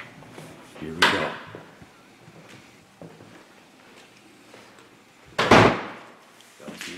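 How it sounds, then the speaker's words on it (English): A door is shut twice on the first floor of the Randolph County Infirmary and Asylum, each a heavy wooden bang close by, with quiet rustling and footsteps in between. "Don't be shutting the door."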